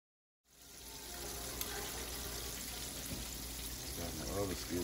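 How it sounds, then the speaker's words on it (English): French fries drop into hot grease for a fish fry. After a brief silence a steady, rushing sizzle swells up and holds, dense and fairly loud, with a faint voice near the end. "We dropped the French fries and getting grease hot."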